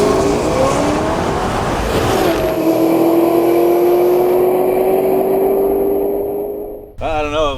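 A 733-horsepower Cobra Mustang accelerates hard down a drag strip, its loud engine note climbing steadily through one long pull before cutting off near the end.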